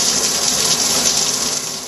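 A rushing waterfall in the Dante's Inferno video game, descending to the eighth circle, a loud dense steady gush of water that fades slightly at the end.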